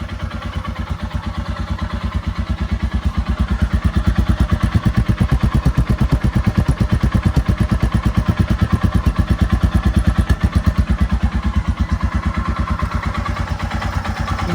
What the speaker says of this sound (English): You can probably hear the valves clattering.